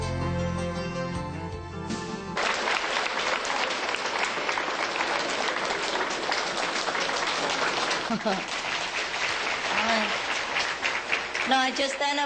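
Audience applause at a gathering, a loud sustained clapping from a large crowd filling the whole stretch, preceded by a brief musical ending.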